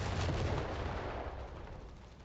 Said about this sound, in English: Howitzer's inflicting a lot of damage